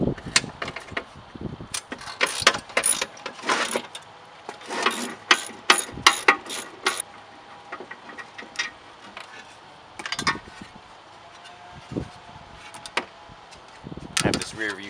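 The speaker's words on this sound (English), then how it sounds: "All it is, 8 13mm bolts. We're going to undo those right now." Ratchet undoing the eight 13mm bolts holding a Jeep spare tire carrier, ahead of a Teraflex Alpha HD hinged carrier install: close, loud bursts of rapid clicking and clunks in irregular runs, with some speech around them.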